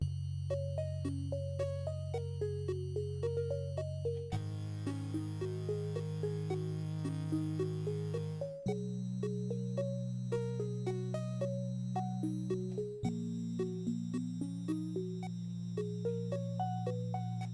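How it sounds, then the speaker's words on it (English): Chip-tune chords and a bouncing melodic line from a Sonicware Liven 8bit Warps synth, played live into a looper; steady bright tones shift chord every few seconds while quick arpeggiated blips run on top, alone and clear. "I just played some chords underneath the melodic element,"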